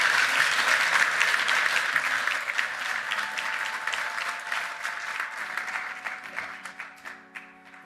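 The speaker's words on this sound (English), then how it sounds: "Let's have one more round of applause" An awards-ceremony audience applauds at a horse racing awards gala, a dense, loud round of clapping that gradually thins and fades toward the end, with no voices over it.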